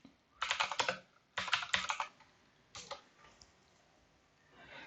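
Bursts of typing on a computer keyboard at a desk, several quick clusters of keystrokes with pauses between, close and fairly quiet, with no talking.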